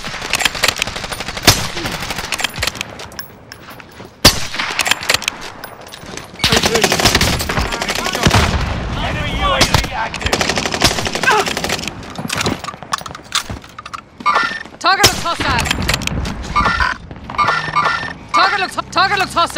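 Rapid automatic gunfire and shooting bursts in a squad-based military video game, loud and dense throughout, mixed with game voice callouts and effects.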